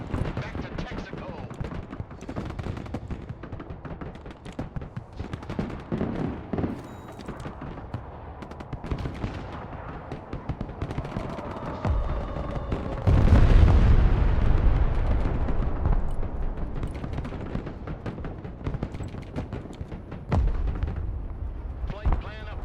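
Bombs dropped on a bomb run in the video game Broken Arrow burst with a heavy, loud rumbling blast that swells midway and rolls on, mixed with other battle noise and radio chatter from voices.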